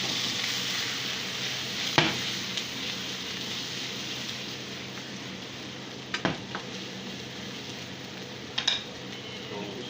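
Salmon fried rice frying and being stirred in a pan: a steady soft sizzle throughout, broken by a few sharp clinks of a utensil against the pan.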